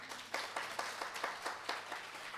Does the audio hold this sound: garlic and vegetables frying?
no